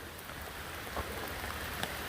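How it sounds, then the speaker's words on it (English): Steady rain falling at a hillside campsite along the Appalachian Trail, a constant faint hiss with occasional drip taps, no voices. "But you can clearly see the rain. It's coming down."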